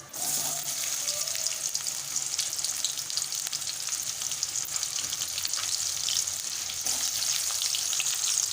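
Sliced big onion hitting hot oil already seasoned with fennel and cinnamon, frying with a loud, steady, continuous sizzle close by, a brief stir or clatter near the start and no talking.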